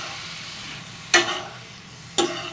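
Bottle gourd frying with turmeric powder in a pan, a steady gentle sizzle with two sharp stirring scrapes about a second apart, close by.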